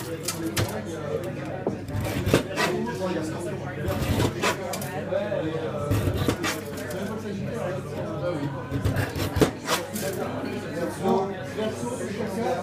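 A knife with high-carbon steel chops and scrapes through ice in irregular, sharp cracks and thuds, close by, with quiet chatter in the background.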